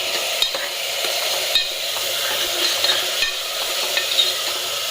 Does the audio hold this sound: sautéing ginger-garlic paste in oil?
yes